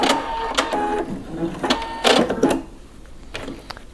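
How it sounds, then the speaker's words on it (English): A sewing machine back stitches lace underwear, giving short bursts of fast mechanical stitching that start and stop several times, close and fairly loud, with no speech. "Just a little bit of back stitching."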